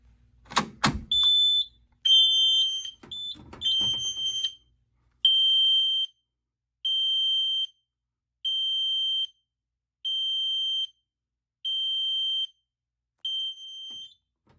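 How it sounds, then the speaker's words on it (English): A Chinese System Sensor SpectrAlert fire alarm on top of a panel, set off from a pull station, sounding a high 3 kHz tone in repeated evenly spaced pulses after some initial clunks and handling noise, loud and close. "it has a flashing light, and it only does a 3K hertz tone, nothing else"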